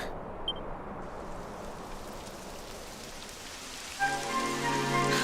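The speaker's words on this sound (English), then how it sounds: "It would have to go and start raining, wouldn't it?" Steady rain patters down across a surface in Dragon Quest XI, a continuous wash of drops; near the end a soft musical tone swells in beneath it.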